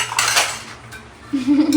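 Steel dishes and cutlery clatter and clink close by as utensils are cleared up in a home kitchen, a quick burst of knocks, then a pause and a fresh run of rattling with a brief hum underneath.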